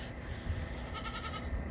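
A goat bleats once in a short wavering call against a low steady background rumble, moderately close.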